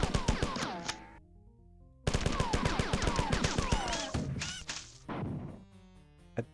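Retro first-person shooter Marathon (1994) game audio: a burst of rapid gunfire-like blasts with a booming grenade explosion, then a short gap, another dense run of explosive cracks and debris, and a few scattered final thuds.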